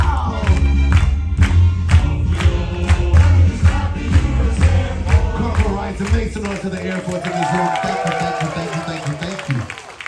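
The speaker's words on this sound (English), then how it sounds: "get those hands clapping" At a military appreciation event aboard a Carnival cruise, a crowd claps in a steady rhythmic beat and cheers, loud and close, while a host's voice talks over them.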